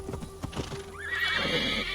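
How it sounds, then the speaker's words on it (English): A horse in a Viking-era game answers a call with a bright rising whinny, preceded by a few clopping hoof steps, close and fairly clear over a low ambient bed. "Call up my horse"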